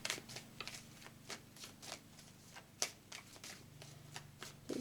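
Tarot cards riffled and shuffled by hand at close range, quiet crisp flutters and snaps in irregular bursts, with one sharper slap partway through.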